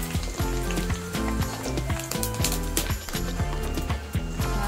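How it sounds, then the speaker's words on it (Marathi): Rava papad frying in hot oil gives a dense, crackling sizzle that holds steady and close throughout. Rhythmic knocks sound beneath it, and no voices are heard. "तेल टाकलेलं आहे, त्यात एक पापडी तळून दाखवते।"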